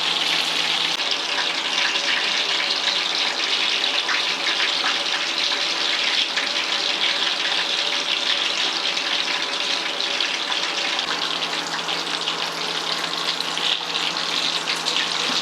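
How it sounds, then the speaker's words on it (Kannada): Fish frying in hot oil for a kebab masala fry, a dense, even hiss of bubbling oil that holds steady and close with no pauses. "ನೋಡಿ, ಫಿಶ್ ಏನಿದೆಲ್ಲ ಅದು ನೀಟಾಗಿ ಫ್ರೈ ಆಗ್ತಾಯಿದೆ."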